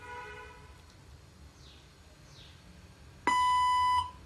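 A translator robot sounds its prompt beep: a single loud, steady electronic tone lasting under a second, coming up clean after a quiet stretch of faint background hum and brief soft chirps.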